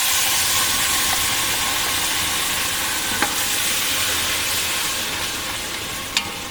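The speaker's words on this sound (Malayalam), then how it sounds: "ഇനി ഇതിലേക്ക് നമുക്ക് 2 തക്കാളിയുടെ പേസ്റ്റ് ചേർത്ത് കൊടുക്കാം" Tomato paste sizzling hard in a pan with browned onions, a dense steady frying hiss filling the whole stretch, with a couple of faint clinks from a utensil.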